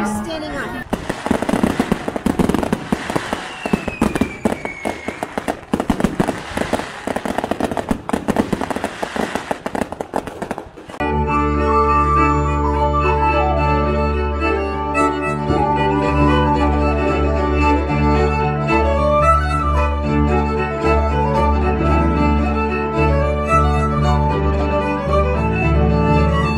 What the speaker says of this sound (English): Fireworks are just about to begin.